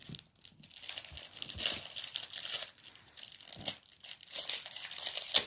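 A gift package is opened with soft crinkling and tearing of wrapping, heard in quiet, uneven bursts close by.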